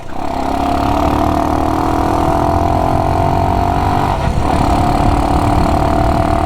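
A Honda CT90 motorcycle idles with an open element airbox, its engine giving a loud, close, steady hum that holds even throughout with a brief dip in the middle.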